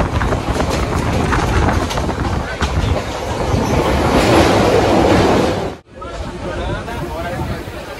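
A Kolkata to Digha passenger train rumbles loudly on its rails with a dense rattling roar, dropping suddenly near the end and then continuing more quietly, with crowd chatter in the background.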